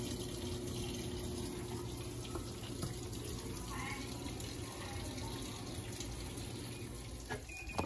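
A Panasonic cyclone 14 kg washing machine (NA-F140B6) fills with water for bed linens, a steady rushing flow that runs continuously at low level, with a few faint clicks and knocks near the end.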